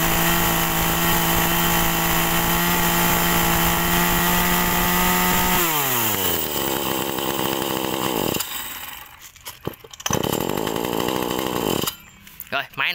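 A hand-held chainsaw engine runs close and loud at a high, steady rev, then winds down in pitch, sputters, and cuts in and out near the end.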